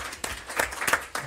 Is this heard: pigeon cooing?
no